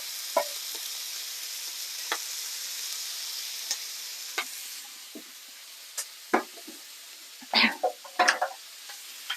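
Onion and steak sizzling in a frying pan, a steady hiss running throughout with scattered sharper pops and crackles, louder bursts near the end.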